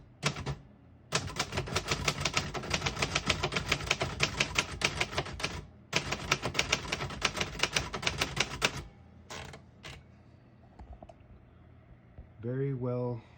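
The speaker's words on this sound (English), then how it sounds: "I'm going to type a sentence in red" A 1964 Royal Aristocrat portable typewriter typing in red, with fast, steady, close keystrokes in two long bursts, a pause, then a few scattered strikes and a carriage bell.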